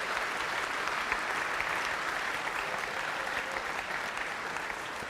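Applause from a large audience at a Star Citizen presentation event, dense and continuous clapping that holds steady and loud from start to finish.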